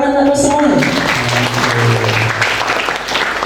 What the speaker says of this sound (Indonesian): Oke, tepuk tangan untuk semua.